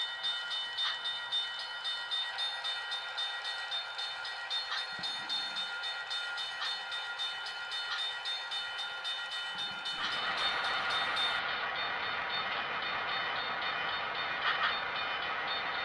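An HO scale model train runs past crossing signals, a steady rumbling roll with rhythmic clicking, joined partway through by a brighter, louder ringing tone, heard close and alone.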